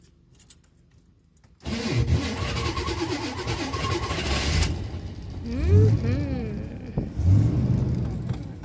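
Carbureted motorhome engine cranking briefly after a quiet moment, then catching and running with uneven revving and a rough, fluctuating idle, close and loud.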